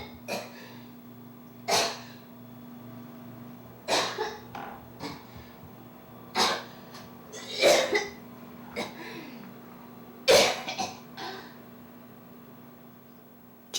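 A woman coughs severely in repeated harsh fits spaced a second or two apart, some bursts doubled, with ragged breaths between them over a steady low electrical hum in a quiet room.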